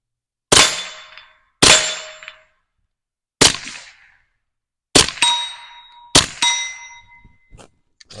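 A suppressed Stribog TR22 firing CCI standard velocity subsonic .22 bulk ammo indoors: five sharp metallic cracks spaced about a second apart, each with a short ringing clang and decay, loud and close with no talk.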